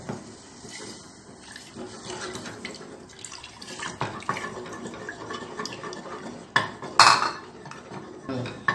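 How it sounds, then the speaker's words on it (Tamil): Metal utensils scrape and clink against a pot as ragi milk sloshes over low heat, irregular stirring sounds and one sharper clatter toward the end. "இப்போ நம்ம இந்த பாலை ஊற்றி கிண்டிடணும்"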